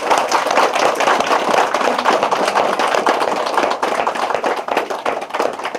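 A lecture audience claps loudly and continuously, a dense close crackle of many hands that holds steady before thinning slightly toward the end.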